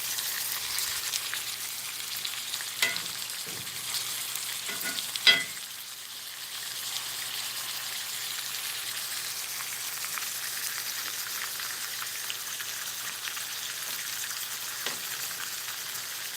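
Thick hand-patted hamburger steak patties sizzle and fry steadily in a pan, a constant bright crackle with a few soft clinks of a utensil early on.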